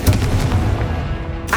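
Confringo fire spell blasts in Hogwarts Legacy, heard as close, heavy booming impacts that roll together and then trail off into a softer rumble.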